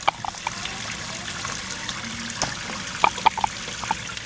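Tap water runs and trickles while oxtails are rinsed in a home kitchen, a steady watery wash with a few brighter splashes and drips.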